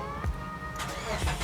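Mitsubishi Grandis MPV engine started with the key: a brief cranking whir, then the engine catches and settles into a smooth close idle, with short bursts of mechanical noise along the way.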